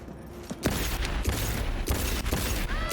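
Revolver fired in Cyberpunk 2077, a quick series of sharp, loud shots spaced roughly half a second apart, each a punchy crack with a brief ringing tail.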